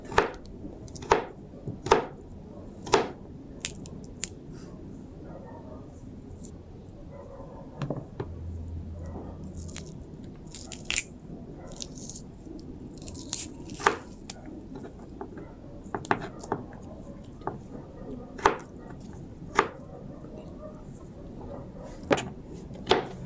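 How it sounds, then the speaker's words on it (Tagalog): A knife chops celery on a cutting board in a home kitchen, a steady run of close, crisp thuds spaced irregularly over a low background hum, with no talking. "atin na pong hiwain itong celery"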